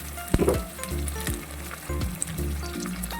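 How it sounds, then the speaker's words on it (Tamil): Chopped tomatoes go into a hot pan with ginger-garlic paste and fry with a close, steady sizzle, broken by a few sharp clinks and stirring scrapes. "இப்போ வந்து நான் தக்காளி சேர்த்துக்கிறேன். நம்ம வெட்டி வச்சுருந்த தக்காளி"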